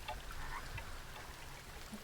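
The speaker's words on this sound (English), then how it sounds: "But at least it's raining so that I don't have to spend energy doing the watering" Steady soft rainfall in the farming game Coral Island, a faint continuous hiss with scattered droplet patter and no voices, even and unbroken throughout.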